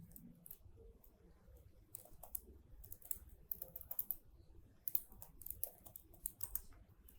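Python code being typed on a computer keyboard, a steady patter of quiet, close key clicks with irregular bursts and short pauses, no voice.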